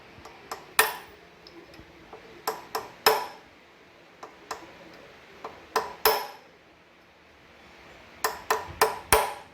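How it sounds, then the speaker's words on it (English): Sharp metallic clanks and pings ring out as the flywheel goes back onto a Chrysler Valiant AP6 engine during a rebuild, irregular close knocks in clusters with short quiet gaps between. "So now let's put the flywheel back here."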